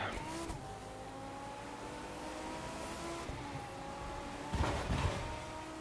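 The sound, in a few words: Lamborghini Gallardo engine in video game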